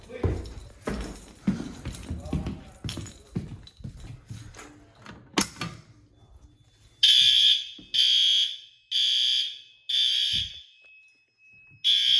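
A newly installed school fire alarm system sounds after a pull station is activated. Pulsing horn blasts come in four loud bursts with short gaps, following a stretch of speech and handling noise.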